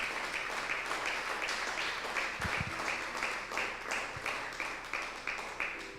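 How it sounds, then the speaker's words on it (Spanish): A church congregation claps together in a steady rhythmic beat, moderately loud and spread through the room, with a few low thumps partway through and the pulse continuing evenly to the end. "¿Cuántos aplauden en el nombre del Señor?"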